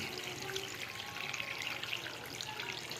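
Water pours steadily and close by into a cooking pot of chicken and mussels in a continuous splashing rush, with no speech.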